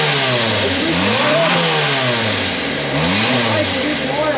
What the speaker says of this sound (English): The motor is definitely quiet with the new oil too.